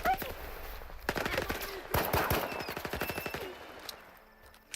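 Enemies in S.T.A.L.K.E.R. 2 fire automatic weapons in sustained rattling bursts, sharp rapid shots at moderate distance, with brief pauses between volleys.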